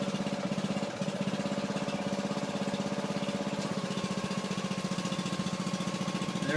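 A foundation jacking machine's engine runs at a steady, even drone with a fast pulsing chug, close by and unbroken throughout.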